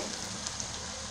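A hot pan of sorshe potol, pointed gourd in mustard, hisses with a dense, steady sizzle after water is added, loud and close throughout the brief moment with no talking.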